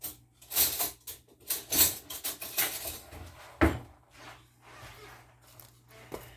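A spoon stirs and scrapes through a bath bomb mixture in a bowl, producing irregular close rubbing, scraping and clinking strokes with a sharper knock midway.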